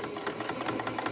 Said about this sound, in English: You want to run a little back stitch over there when you begin.